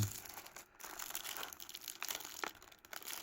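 Jujutsu Kaisen trading card pack wrappers are torn open, crisp crinkling and ripping foil in quick bursts, close and quiet with brief pauses between pulls.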